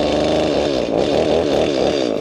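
A chainsaw engine running continuously at a rough, fluctuating high idle with the chain brake on and the chain not spinning, loud and close, with no voices over it.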